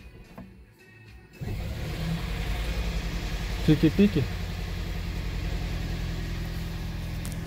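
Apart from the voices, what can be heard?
Toyota Fielder car engine starting and idling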